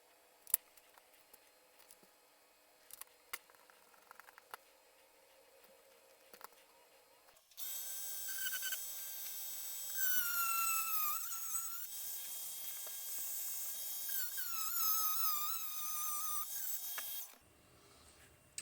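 Pieces are cut while a dim bulb tester is being built. Scattered clicks and snips give way to a loud, sustained, whining cutting sound with wavering pitch that runs about ten seconds and then stops abruptly.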